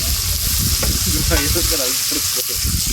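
Fish roast frying on a tawa at a roadside stall, a steady dense sizzle with occasional stirring scrapes, loud and continuous with faint voices in the background.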